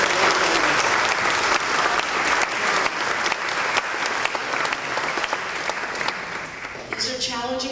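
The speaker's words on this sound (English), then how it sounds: "Please thank her with your applause." Sustained, full applause from a dinner audience at an awards banquet, many hands clapping steadily and fairly close, tapering near the end as a voice begins speaking.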